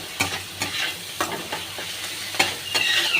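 Spices sautéed dry in a pan, with no water, for a fasha fish jhal curry: close, repeated stirring scrapes at an irregular rhythm over a low, steady sizzle, with no talking.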